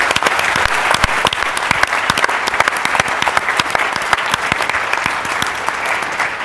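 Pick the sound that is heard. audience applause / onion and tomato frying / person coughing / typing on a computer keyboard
audience applause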